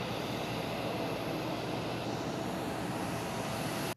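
Jet aircraft engine roar from Air Force One, the US presidential plane, landing in Cuba; a steady, broadband rumble holds at an even level throughout with no talking.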